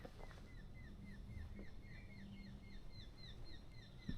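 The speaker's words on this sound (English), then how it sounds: "Can you hear that bird call just there?" A wild bird in a Korean forest repeats short, high, downward-sliding whistled calls in a steady series over faint woodland ambience, fairly quiet and somewhat distant.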